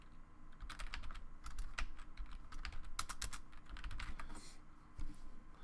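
Computer keyboard typing close by, a quick irregular run of soft clicking keystrokes, some in fast bursts, alone with no talk.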